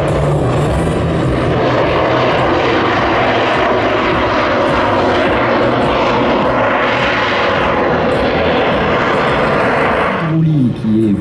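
A Pitts biplane flying aerobatics at the Melun 2024 air show fills the air with a loud, sustained propeller-engine roar that swells and fades as it maneuvers, while an announcer talks over it.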